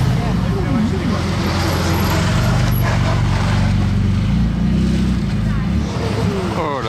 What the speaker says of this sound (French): Une nouvelle 812 Competizione Aperta à Monaco, je n'avais jamais vu.